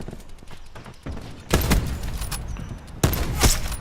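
Rapid automatic gunfire in Call of Duty Black Ops 4 Blackout, with a couple of dense bursts of sharp shots over a muffled in-game background.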